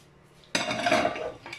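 Spoon scraping and clinking in a pan while melting chocolate with cream and salted butter, a short close burst of metallic stirring after a quiet start.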